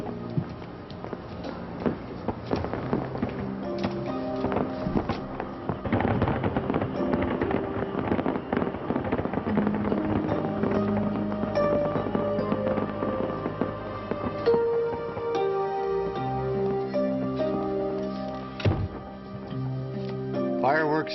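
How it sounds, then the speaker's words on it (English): Fireworks display in a 1990s television drama scene: repeated crackling bursts and pops under steady talk and music, continuing for some twenty seconds at moderate distance. "Fireworks courtesy of Alexander Nichols."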